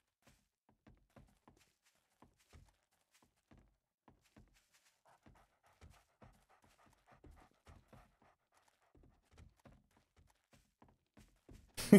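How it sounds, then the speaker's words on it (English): Faint, rhythmic panting from dogs in the 7 Days To Die video game, a string of soft breathy pulses spread evenly across the stretch, ending with a sudden louder thump. "That's all I can hear as well, the panting dogs."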